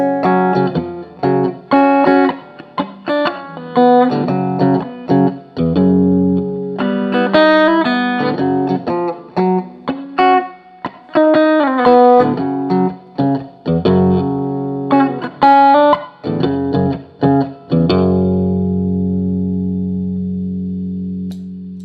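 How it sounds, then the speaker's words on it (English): A Phred Instruments Blade electric guitar plays a melodic riff with a crunchy overdriven tone and added boost, notes ringing with some echo before a final chord fades out. "That was playing with some overdrive as well as some boost"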